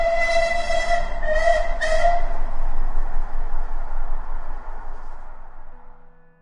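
A departing train sounds a loud whistle in three short blasts, followed by a heavy rolling rumble that slowly fades away.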